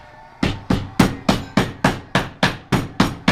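After a brief quiet moment, a hammer pounds metal in a fast, regular rhythm while forging grill roll-ups, each loud ringing strike close by.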